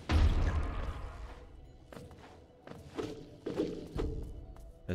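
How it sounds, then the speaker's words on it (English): Several booming explosions and heavy thuds from Hollow Knight land one after another, the first loudest, with short pauses between blasts. "Those explosions are pretty big."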